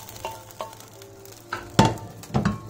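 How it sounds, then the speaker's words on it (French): Cuttlefish pieces going into a hot frying pan, with scattered sizzles and scraping stirs building to louder crackling bursts near the end, close by and without speech. "mettre le reste de la sèche dans la poêle"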